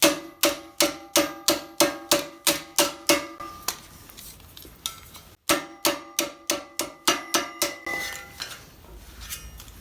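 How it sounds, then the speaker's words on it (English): Rapid, evenly spaced metallic hammer strikes ringing out up close as armor pauldron plates are hammered over a pipe, a long steady series, a brief pause, then another run of blows. "basically just hammer them over a pipe here"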